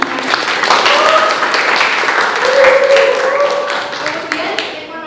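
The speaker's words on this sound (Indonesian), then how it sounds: "Tepuk tangan dulu buat Mbak Nana." Classroom applause for a student during a sociology lesson, a group of pupils clapping close and loud for a few seconds while voices call out over it.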